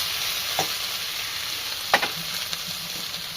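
Potatoes and meat sizzle in a pan with a steady hiss, and a few sharp scraping stirs stand out near and clear, with no talking.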